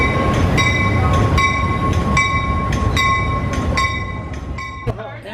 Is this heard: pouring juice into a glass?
no